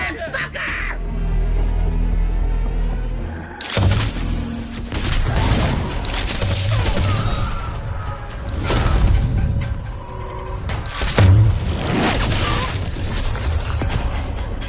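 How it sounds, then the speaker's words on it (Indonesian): A gunfire shootout from the Fallout series, with bursts of shots, booms and mechanical clatter rising and falling over about fifteen seconds amid a loud, dense background, with some speech mixed in. "aksi tembak-tembakan antara Muklis dan semua orang di sana pun terjadi"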